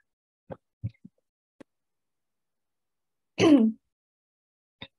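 A single short cough or throat clear, close and quiet, surrounded by a few faint clicks and near silence.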